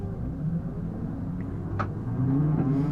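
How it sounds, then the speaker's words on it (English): Race car engine on a warm-up lap at Brands Hatch, heard from inside as a continuous low droning rumble that swells a little louder near the end, with no talk. "that's what the car is at the moment as we start our warm-up lap now at Brands Hatch"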